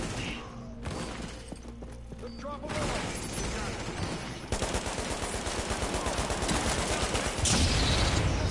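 Rapid gunfire from The Division, a fast run of sharp shots, loud and close, that grows denser over the second half amid in-game clatter and impacts, with a player speaking now and then.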